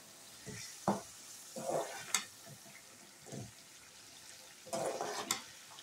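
Mixed vegetables for pickle cook in white vinegar in a pan, giving a quiet, faint sizzle broken by occasional soft stirring scrapes.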